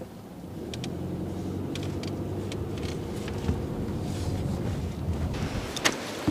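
Wind blows across frozen Perch Pond in Old Town, making a steady rumbling rush with buffeting gusts against the microphone and occasional faint clicks and scrapes, with no one speaking.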